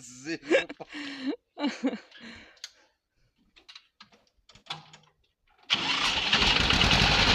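A car engine cranks and catches after battery trouble, then settles into a loud, steady run in a forest setting, following a stretch of people talking and laughing.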